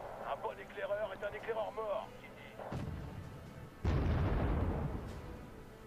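Battle sounds from the Wargame Red Dragon strategy game: deep booming artillery or cannon fire and heavy rumbling impacts, preceded by a radio-like voice, loud and dense toward the end.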